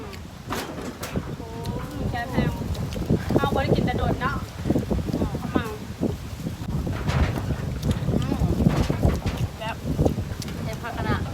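Dry wind blowing around an outdoor rice field, a steady rushing roar with gusty buffeting against the microphone, while someone talks over it.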